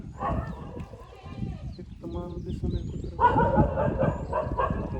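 A dog barks a few times close by, mixed in with people talking over the scene.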